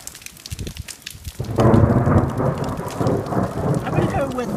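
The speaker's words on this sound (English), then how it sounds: "I'm going to say the storm is getting closer." Thunder from an approaching storm on the Camino de Santiago between Belorado and San Juan de Ortega: a quiet stretch of small crackles, then a heavy, sustained rumble that rolls on for several seconds, close and loud.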